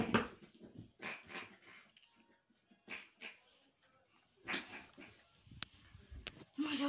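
A dog whimpers and snuffles in short irregular bursts, with snorting breaths and quiet gaps between, close by.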